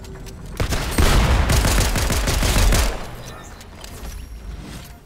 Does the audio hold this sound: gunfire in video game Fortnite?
yes